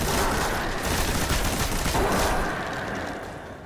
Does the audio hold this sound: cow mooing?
no